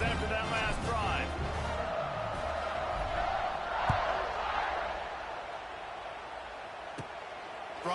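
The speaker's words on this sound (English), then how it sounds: "this crowd is feeling themselves after that last drive" Football stadium crowd roaring and cheering, a broad sustained wash of noise under a commentator's talk, swelling midway then easing.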